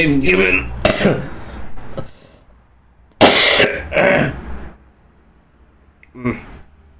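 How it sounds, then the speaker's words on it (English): A few harsh coughs and throat clearing in bursts, close to the microphone, separated by pauses and a little speech. "I'm still coughing"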